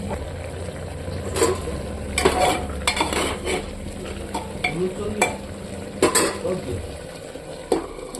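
Spices including turmeric and dried chilli powder fry in a pan while a spoon stirs and scrapes repeatedly, giving a continuous sizzle broken by clattering metal knocks and scrapes at an irregular rhythm.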